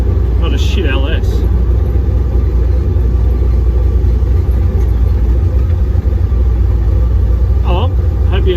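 A drift-built Ford Falcon fitted with an LS V8 swap, heard from inside during a street drive, gives a deep, steady engine rumble throughout, with a person's voice briefly over it near the start and again near the end.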